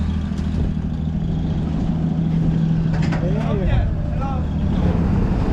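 A boat engine runs steadily in Ha Giang, a loud, close, low rumble that holds throughout while faint voices come and go over it.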